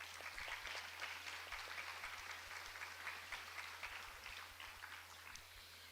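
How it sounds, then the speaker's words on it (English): An audience claps for festival sponsors: dense, steady applause that stays distant and faint across the whole stretch, with a constant low hum underneath. "Please join me in a round of applause for our major sponsors."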